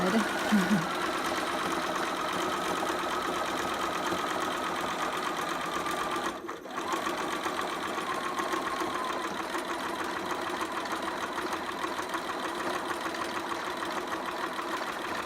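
A sewing machine runs steadily for about fifteen seconds, back stitching gathering stitches on a two-piece sitter, with one brief pause midway.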